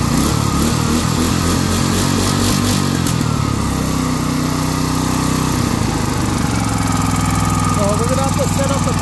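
A Duromax 500cc engine with its governor deleted runs loud and close at high revs, a steady buzzing drone that dips and climbs slightly.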